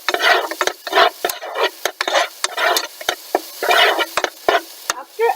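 Green chilies and garlic cloves stir-fry in a pan for moong sabzi, a steady sizzle broken by repeated scraping strokes of a spatula, close and fairly loud with no talking.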